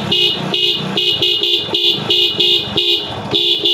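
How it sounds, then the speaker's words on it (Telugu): A relay-wired dual horn on a Hero Splendor motorcycle blares in a rapid series of about nine short, loud, close honks with brief gaps between them, with no other sound in the clip. "ఇప్పుడు నేను హరన్ బ్లో చేసి చూపిస్తాను మీకు ఏ విధంగా వస్తుందో"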